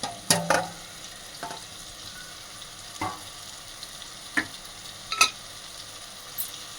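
Fried mushrooms and tomatoes stirred into a curry in a pan, a low steady sizzle with a few sparse spoon knocks and clinks against the pan, close and quiet, no talking.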